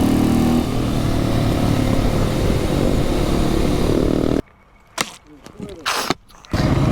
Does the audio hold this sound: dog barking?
no